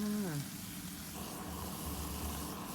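Stir-frying with fermented soybean paste in a pan sizzles steadily under a spatula, and a voice briefly overlaps at the start before the cooking continues alone.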